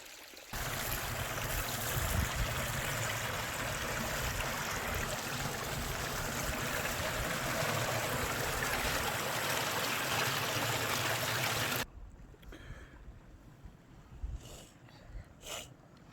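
A small natural stream flows through a little ravine on a hike near Winscar Reservoir, giving a steady, close rushing hiss of running water that stops abruptly near the end, leaving quiet outdoor ambience.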